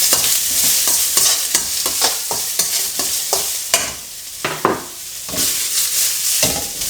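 Shrimps sizzle in a hot pan, a loud close frying hiss broken by repeated stirring scrapes and clatters.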